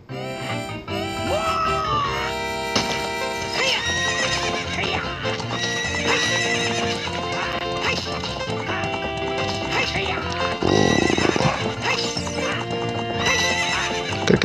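Horse galloping with repeated neighs in The Legend of Zelda: Ocarina of Time during a race, loud hoofbeats running steadily under game music, with a few whinnies over the beat.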